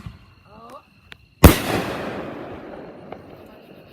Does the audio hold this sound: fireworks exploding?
yes